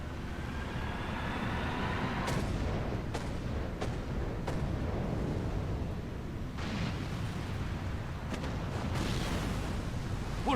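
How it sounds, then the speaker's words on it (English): Long-range artillery fire in the video game Final Fantasy XIV booms out in several heavy, spaced blasts over a dense, continuous rumble of battle. "Long-range artillery."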